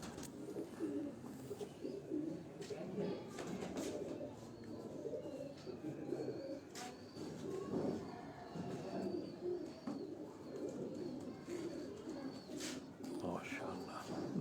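Pigeons coo in a low, continuous murmur from a loft of racing birds, with faint rustling and scattered chirps running underneath.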